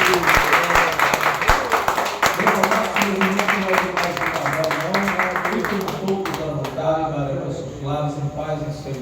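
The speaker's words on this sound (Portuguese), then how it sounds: "Aplausos a ele." Church congregation applause during a worship service, clapping with cheers that blends with music and voices, fairly loud throughout before thinning out toward the end as tones linger.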